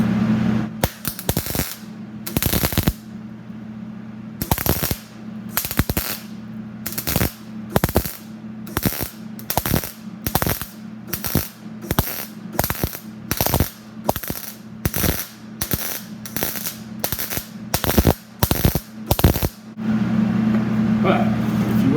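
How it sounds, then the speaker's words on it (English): Car drip rails being stitch-welded: about twenty short, loud crackling weld bursts follow one another at a fairly even pace, each lasting under a second, with a low steady hum between them. "Weld it every inch or so and probably call it good?"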